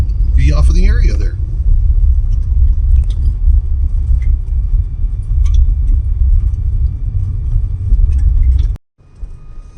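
A vehicle drives toward the Hampton Butte Rockhound area on a rural road, with a steady low rumble and road noise throughout. A voice talks briefly near the start, and the sound cuts off abruptly just before the end.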